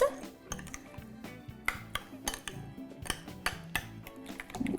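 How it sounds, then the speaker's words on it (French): A utensil mixing a creamy mayonnaise-based dressing for broccoli salad in a bowl, with rapid, repeated clinks and scrapes against the bowl, close and fairly steady, and a brief word spoken. "Donc là, je vais mélanger le tout, comme ça."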